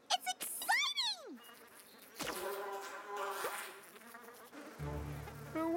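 Cartoon bees buzz in an animated pony show, several high wavering insect drones swooping and sliding in pitch up front, followed by louder mixed action noise and other effects.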